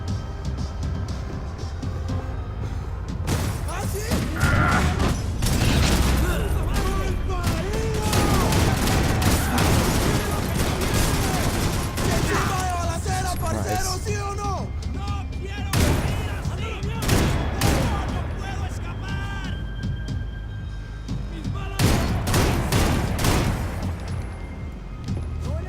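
Blind-fire gunshots in Max Payne 3, a dense string of loud, close shots and bursts crackling on and off for the whole stretch, with a voice talking over parts of it.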